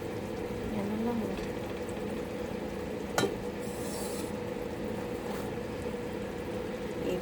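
Marinated meat fries in oil in a pan, a soft, continuous sizzle with occasional stirring clatter and one sharp utensil knock partway through.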